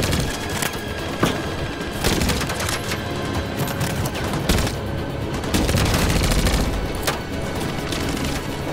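Dense gunfire from a firefight in the video game Detroit: Become Human, with rapid overlapping shots and booms forming a continuous loud barrage.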